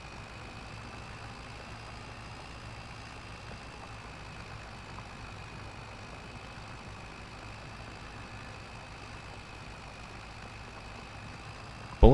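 Tractor engine running at a steady, low, even hum throughout, moderately distant, with a brief sharp knock at the very end.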